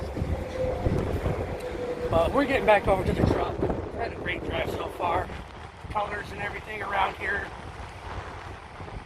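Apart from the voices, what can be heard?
wind blowing into microphone outdoors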